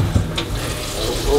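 Water runs from a kitchen sink faucet just after a dishwasher hookup, a steady rushing splash filling the short moment, fairly loud and near.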